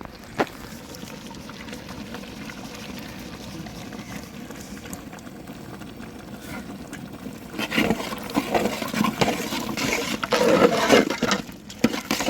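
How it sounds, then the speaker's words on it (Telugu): Water pours steadily into a pot of mutton and ridge gourd curry, a broad splashing rush that swells louder toward the end, with faint kitchen clatter early on. "వాటర్ వేసుకుంటున్నాను"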